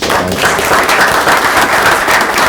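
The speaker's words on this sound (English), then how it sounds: "So we want to give you a round of applause for your services." A council meeting audience applauds steadily, a dense wash of many hands clapping at close range throughout, with no talking over it.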